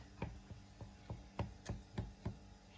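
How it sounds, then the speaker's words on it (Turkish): A knife chopping through crispy homemade börek pastry on a board, about eight soft, evenly spaced thuds with a slight crunch, close but quiet, with no talk. "arkadaşlar böreğimizi bu şekilde kesiyoruz"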